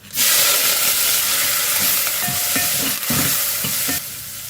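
Crushed shallots, garlic, curry leaves and dried red chillies sizzle loudly as they hit hot oil in a pan and are stirred, a close, continuous frying hiss with scraping stirs, the sizzle easing slightly near the end.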